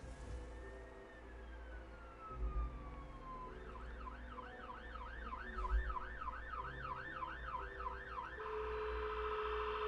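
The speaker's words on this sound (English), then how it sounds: "there were sirens blaring and they were like really loud" A video game siren (ESO Gold Road) wails, sweeping up and down, then shifts to a rapid warbling yelp, fairly distant and steady, with traffic rumble beneath.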